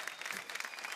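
Faint applause from a crowd, a steady patter of many hands clapping at a distance.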